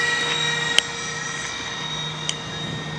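A radio-controlled Windrider Boeing 737-700 model jet on its maiden flight, with the throttle eased back to about 80%, gives off a steady, even whine. The tone holds throughout, broken only by a couple of brief clicks.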